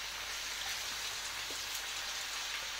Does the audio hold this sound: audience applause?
no